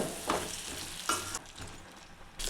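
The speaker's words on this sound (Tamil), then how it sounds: "அந்த மசாலா கூட அந்த உருளைக்கிழங்கு நல்லா கலந்து விடுங்க" A spoon scrapes and stirs potatoes into masala in a pan, with a few distinct scraping strokes over a soft background sizzle. No voices.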